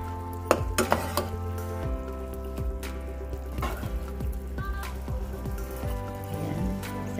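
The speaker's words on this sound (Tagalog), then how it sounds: "So, i-stir lang natin to hanggang magme-melt." A spoon stirs beef curry in a pot on the stove, scraping and clinking against the metal under a low steady sizzle, close up with no talk.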